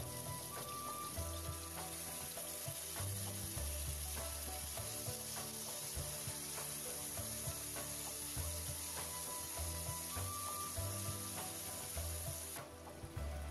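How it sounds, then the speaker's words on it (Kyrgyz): Chicken pieces frying in hot vegetable oil in a pan over high heat, a continuous crackling sizzle with scattered spits and pops, steady and fairly quiet throughout. "алгач тоуктун эттерин суусу бууланып чыкканча күчтүү отто куурубуз"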